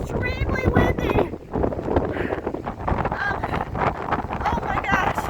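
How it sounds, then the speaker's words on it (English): Strong wind buffets the microphone in loud, continuous low rumbling gusts on an exposed lookout by the big Fresnel lens at Split Rock Lighthouse, with voices talking faintly under the roar. "It's extremely windy."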